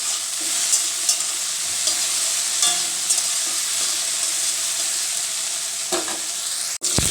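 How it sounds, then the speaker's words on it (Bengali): Pieces of pointed gourd sizzle steadily in hot oil, a dense continuous frying hiss with occasional soft stirring clinks, close and fairly loud, ending in a brief sharp knock. "তেল গরম হয়ে গেছে দিয়ে দেবো পটলগুলো"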